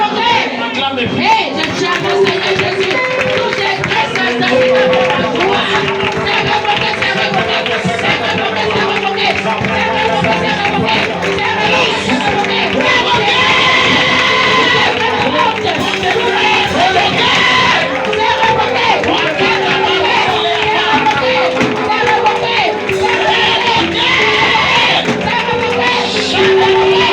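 A church congregation cheers and acclaims during a charismatic French-language service of prayer and deliverance, a dense roar of crowd voices, shouts and clapping blended with music, loud and sustained throughout.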